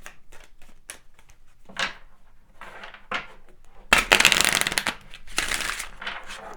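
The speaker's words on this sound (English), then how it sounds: "Let's pull some additional cards to see what other messages once you come forward." Tarot cards are riffled and shuffled by hand, light flicks and slides building into two louder bursts of rapid shuffling, close and crisp, with no talk.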